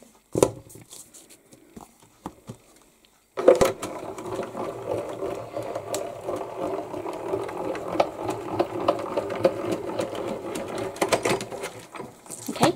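A craft cutting machine cuts a homemade stencil, starting after a few faint clicks into a continuous close mechanical buzzing and whirring with small taps, moderately loud and steady until the end, with no talking.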